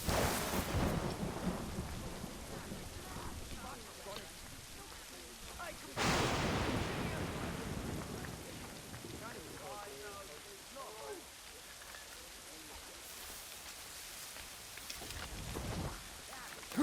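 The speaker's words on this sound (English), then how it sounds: "But you gotta love light thunderstorms." A video game thunderstorm: steady rain hisses throughout, and loud thunder cracks and rumbles come near the start, midway and near the end.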